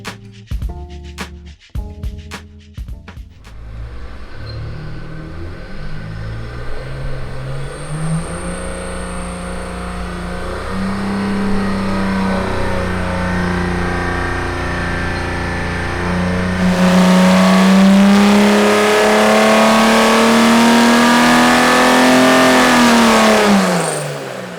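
A Chrysler 225 slant six on a dyno: sharp cranking bursts catch, then the engine climbs in a long steady rev sweep toward 5,000 RPM, roaring louder near the top before easing off, loud and close with no talk.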